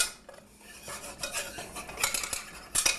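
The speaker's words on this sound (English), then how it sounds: "so I'm just stirring this around" A spoon stirs a cream sauce with cheese in a pot just off the heat, giving close, scraping clinks of metal against the pan that grow louder toward the end, with no voices.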